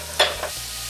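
Steaks hitting hot oil in a pan for fajitas, a sharp sizzle burst that quickly settles into a faint steady frying hiss.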